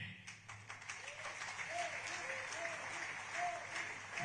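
Audience applause at a community event, a steady wash of clapping hands throughout, moderately loud and somewhat distant, with faint voices mixed in.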